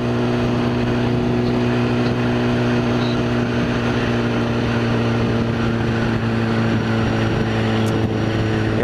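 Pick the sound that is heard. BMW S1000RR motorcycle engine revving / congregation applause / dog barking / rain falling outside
BMW S1000RR motorcycle engine revving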